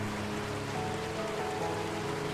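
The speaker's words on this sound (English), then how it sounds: "The heavy rain tells me you are there." Heavy rain in the video game Until Then, a steady broadband hiss of falling water that runs unbroken at an even level for the whole stretch, with no voices over it.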